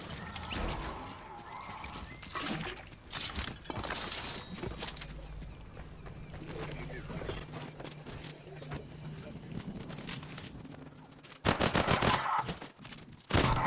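Gunfire in the video game Fortnite, dense rattling bursts of automatic shots and sharp cracks over steady game noise, close and loud, with a voice talking over it.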